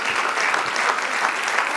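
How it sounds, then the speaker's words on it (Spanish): A church congregation applauds during a sermon, a dense, steady wash of many hands clapping at once that holds evenly throughout, with no voices rising above it. "Le damos el aplauso al Señor."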